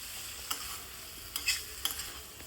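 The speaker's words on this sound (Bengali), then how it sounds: "নেড়ে চেড়ে নিচ্ছি।" A pointed gourd curry is stirred in a pan with faint sizzling underneath. A few sharp scrapes and clinks of a utensil against the pan come at irregular moments. No voices are heard.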